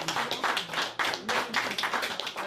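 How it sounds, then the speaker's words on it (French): Applause after a French poetry reading from an anthology of unpublished poems: a small group clapping in uneven bursts, close and fairly loud, with individual claps easy to pick out and brief dips between them. "Je l'applaudis"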